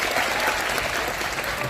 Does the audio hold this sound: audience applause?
yes